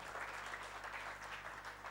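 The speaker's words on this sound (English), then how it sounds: "Please welcome Pandan Saab with a big clap." An audience claps to welcome a speaker at a solar energy event in Gujarat, dense, steady applause held at a distance for the whole moment.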